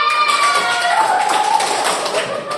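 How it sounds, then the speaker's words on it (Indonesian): Classmates clap together in a classroom during a micro-teaching session for trainee teachers, a steady patter of hand claps filling the whole stretch, with a voice heard faintly alongside. "Tepuk tangan."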